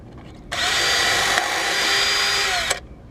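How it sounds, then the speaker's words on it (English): A power drill whirs at high speed in a single continuous burst of about two seconds, close and loud, as it drills something out, with a faint burning smell noted beforehand. "one of them is drilled out"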